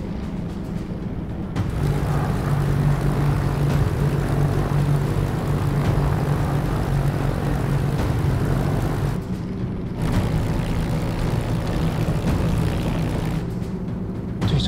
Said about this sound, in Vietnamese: hình như tôi đã nghe thấy tiếng của máy bay Tây Sơn